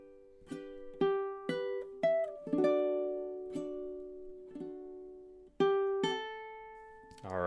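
A ukulele plays measures 13 to 16 of Shenandoah fingerstyle, with slow plucked notes and soft chords ringing close and quiet, each left to decay before the next, ending on a brief strum.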